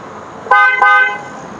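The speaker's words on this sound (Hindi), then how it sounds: "हॉर्न बज रहा है" A newly fitted car horn sounds in two short blasts in quick succession, loud and close, the second held slightly longer, with quiet background noise before and after.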